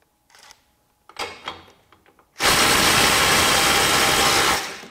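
A Ryobi impact driver on a 2 amp-hour battery set to 250 foot-pounds, a few short clicks and taps, then a loud, sustained hammering burst for about two seconds before it winds down.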